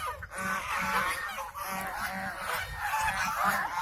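Geese and other waterfowl honk repeatedly at a lake in a garden setting, a busy overlapping chorus of calls at moderate distance over steady outdoor background noise.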